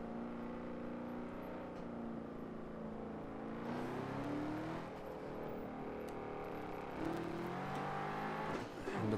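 In a Nürburgring Nordschleife lap of a racing video game played on a Logitech G920 wheel with gear shifter, a car engine drones steadily after a downshift to second, pitch rising and falling as it revs, moderately loud throughout.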